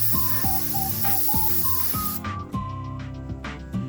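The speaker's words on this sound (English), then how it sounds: "I spray brake clean like I'm not the one buying it." Aerosol brake cleaner sprays onto a Ford Ranger during an oil change, a loud, close, steady hiss that cuts off around two seconds in, followed by a few shorter bursts with clanks in the background.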